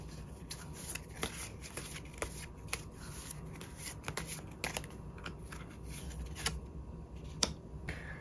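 Tarot cards shuffled and handled alone, a steady run of soft riffling flutters and light slaps with sharper card snaps near the end, close and quiet.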